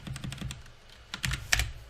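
Fingers type on a computer keyboard while writing code, a quick run of sharp key clicks, a short pause, then a denser flurry with a heavier keystroke near the end, close and clear with no talking.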